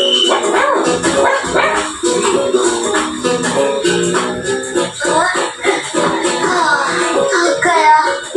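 A cartoon dog in a Hindi children's cartoon barks loudly and repeatedly in excited yaps and yips, in a busy, nearly continuous stretch.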